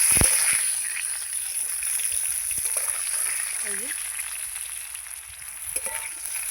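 Potatoes fry in a pan until reddish-brown, giving a steady close hiss of sizzling oil throughout with a few faint clinks and stirs.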